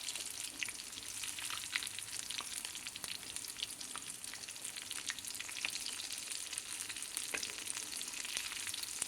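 Boneless salmon fish with ginger-garlic paste, cumin powder and pepper fries on low heat, giving a soft, steady, fairly faint sizzle dotted with tiny pops.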